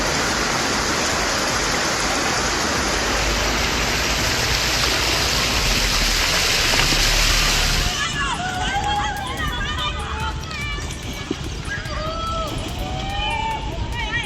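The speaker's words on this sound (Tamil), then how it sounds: "குஜராத் மாநிலத்தில் கனமழை பெய்தது" Heavy monsoon rain falls in Gujarat, a loud, steady broadband roar of rain and rushing water that continues throughout, and partway through a reporter starts talking over it.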